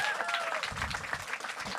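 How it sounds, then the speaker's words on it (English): Audience at a live cafeteria performance show applauds at the close, a dense steady wash of clapping with some voices mixed in, moderately loud throughout. "Please give yourselves a big round of applause for coming."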